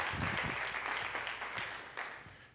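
Continuing audience applause at a science conference keynote, a broad clatter of many clappers that gradually thins and fades over a couple of seconds, with faint voices underneath.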